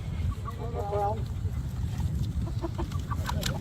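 Chickens cluck inside a cage after being moved over from a crate, with a brief run of rooster-like calls early on and scattered clucks later, heard over a steady low rumble of background noise and some voices.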